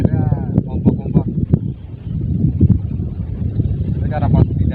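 Strong wind buffets the microphone over choppy water at a fishing spot by a pond edge, a steady low roar with gusts, while someone talks over it.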